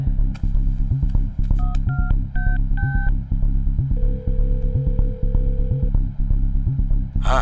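Telephone number being dialed in an action film scene, with a short run of distinct keypad tones followed by a long steady tone, over loud rhythmic background music.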